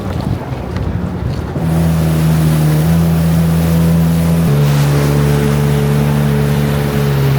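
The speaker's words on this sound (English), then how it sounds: "we are riding this jet ski on the Colorado River in Laughlin" A jet ski roars across the Colorado River at Laughlin, its engine drone loud and steady under heavy wind buffeting, with the pitch shifting as the throttle changes.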